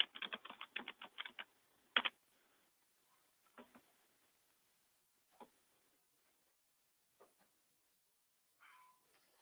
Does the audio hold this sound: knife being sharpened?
no